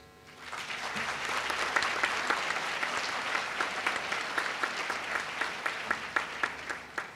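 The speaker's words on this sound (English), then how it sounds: "May I invite our graduates to show your appreciation with a round of applause for your lecturers, family members," Graduates at a university convocation ceremony give a round of applause for lecturers, family and friends, a large crowd clapping that swells in and carries on steadily, with a few louder individual claps standing out toward the end.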